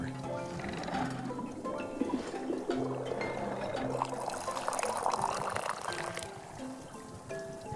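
Tea pouring in the video game Wanderstop, a steady trickling stream of liquid running for several seconds over gentle game music, moderately loud and continuous without talk.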